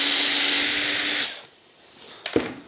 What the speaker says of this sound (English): While I'm putting it in the screwdriver position, I'm just going to take out these two screws.